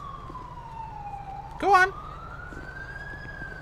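Ambulance siren inside the game GTA 5, a steady wailing tone rising and falling slowly, with a louder burst in the middle and voices talking over it.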